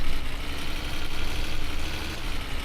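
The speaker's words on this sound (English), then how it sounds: "You hear the engine revving out." A car engine revs in the video game My Summer Car, a loud, steady, rough drone that holds without pause and has no voices over it.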